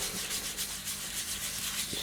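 Finish being rubbed by hand into an offset ash wood bowl on a woodturning lathe, a steady soft scrubbing friction sound, close and continuous with slight rhythmic strokes and no talk.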